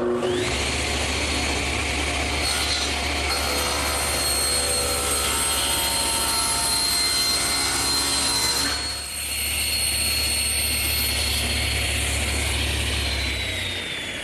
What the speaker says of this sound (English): my panel cutter sure makes an easy job of squaring up the bottom